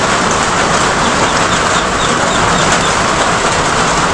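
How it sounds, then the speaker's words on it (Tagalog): Steady, dense hiss of heavy rain pouring down, a continuous broadband wash with no breaks and no voices. "Sinugod niya yung malakas na ulan. Papatila muna ako."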